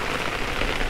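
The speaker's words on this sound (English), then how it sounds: "All right, it's raining pretty good." Heavy rain pours down on a 24-foot bay boat with a T-top out on the Gulf of Mexico, a dense, loud, steady hiss of drops drumming on the surfaces.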